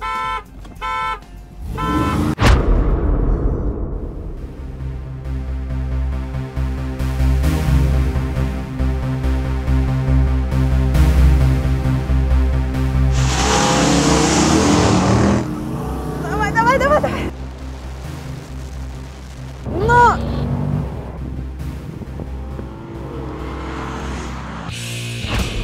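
A Jeep Grand Cherokee SRT8 accelerates hard in a drag race against an older SRT, its loud, steady engine roar building over the run, with brief voices toward the end.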